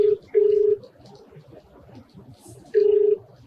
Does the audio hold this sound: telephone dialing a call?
yes